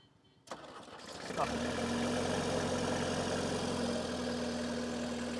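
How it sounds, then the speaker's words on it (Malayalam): A Mahindra Bolero engine turns over and catches on a cold start after sitting three years, then settles into a loud, steady, rumbling idle that runs to the end. "കുറച്ച് നേരത്തെ മെനക്കെടുത്തിന് ശേഷം ആ വണ്ടി സ്റ്റാർട്ടായിരിക്കുകയാണ്"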